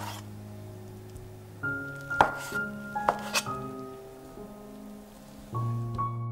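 A knife cuts through tofu in a few light, irregular taps against a cutting board, close and quiet over a faint steady hum.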